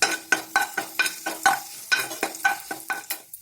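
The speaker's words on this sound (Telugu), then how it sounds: "ఇంగువ పోపు దీనికి కలుపుకోవాలి." Dried red chillies, mustard seeds and asafoetida sizzle in hot oil as a tempering for wood apple curd chutney, with a rapid series of sharp, close crackles and pops.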